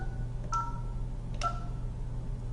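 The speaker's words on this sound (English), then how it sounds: "I'm going to type the extension that I want to transfer the call to." Two short dial tones from a Polycom desk phone keypad while entering extension 602, a pair of quick beeps about a second apart over a low steady background hum.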